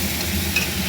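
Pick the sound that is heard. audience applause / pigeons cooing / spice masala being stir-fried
spice masala being stir-fried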